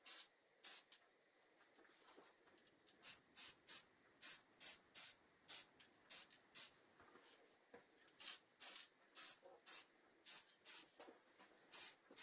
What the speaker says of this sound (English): a quick spray